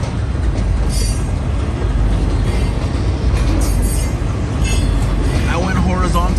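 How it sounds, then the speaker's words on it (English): Long freight train with graffiti-covered wagons rolling past up close, a loud continuous rumble with rhythmic wheel clatter and occasional squealing, with a voice talking over it. "I went horizontal because I felt like this was going to be a long train"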